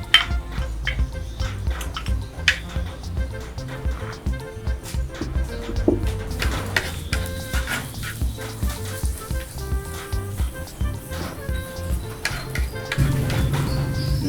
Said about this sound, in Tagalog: Lalagay ako ng mantika sa ating tagyasi. Tsaka yung ating bawang. Dinikdik na bawang.